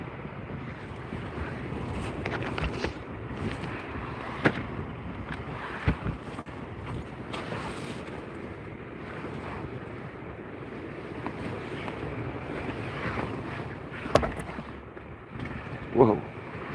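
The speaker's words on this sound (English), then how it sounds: "It's gusting up quite strong at times." Strong gusting wind at sea roars steadily across the microphone from a fishing kayak, with wave and water noise underneath and occasional sharper bursts and knocks.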